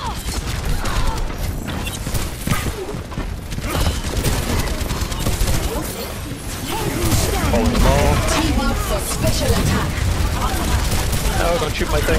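Heavy, rapid gunfire in an Overwatch match on Blizzard World, loud and nearly nonstop, with crashes and mechanical clatter mixed in while players talk over it.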